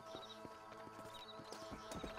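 Horse hooves clip-clopping in the video game Red Dead Redemption, a quick steady run of close hoof strikes at walking pace with faint background ambience.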